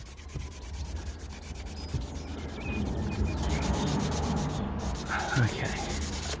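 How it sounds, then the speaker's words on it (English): Wet-and-dry sandpaper scrubs a BMW 525i M Sport E60 exhaust tip during restoration, a continuous rasping rub that grows louder and denser partway through, with faint background noise and no talking. "I'm going to carry on with the wet and dry."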